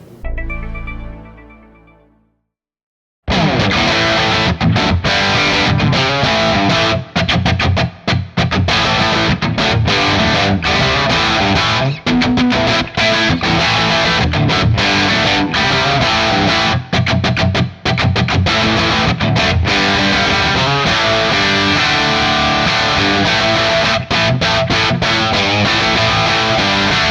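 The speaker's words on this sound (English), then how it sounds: "Okay, so I've got the guitar right now going into the Marshall JCM 800." A Gibson Les Paul Standard electric guitar plays through a Marshall JCM 800 amp, loud, dense distorted riffing that runs almost continuously with brief choked pauses, after a short fading note at the start.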